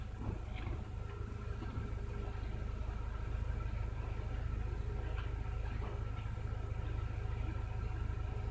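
Engine of a 1999 Mercedes A Class with hard-starting trouble idling steadily, a low, constant rumble heard close up with faint clicks and rattles above it, and no talking.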